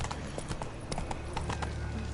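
Roach, a horse in The Witcher 3 video game, sets off at a gallop, its hooves clip-clopping in a quick, even rhythm that stays loud and close throughout.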